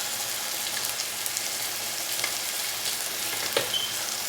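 Potatoes frying in a pan give a steady, close sizzle, with occasional scrapes and taps as a spoon stirs them, and no one talking.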